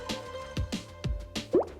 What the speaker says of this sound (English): it does have that beautiful, satisfying pop